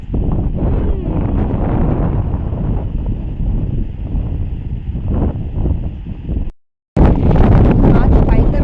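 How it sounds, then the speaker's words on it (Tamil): Strong wind buffets the microphone on a hilltop in the Kabbe hills near Virajpet, Coorg, a loud, continuous roaring rumble with brief gusty surges, cut by a momentary dropout before resuming at full force. "காற்று பயங்கரமாக வீசுது"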